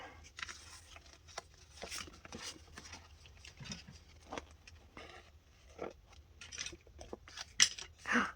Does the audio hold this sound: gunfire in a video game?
no